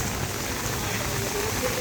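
Heavy monsoon rain pours down near Tilwara in Rudraprayag, a dense, steady hiss of drops beating on surfaces that fills the whole span without a break.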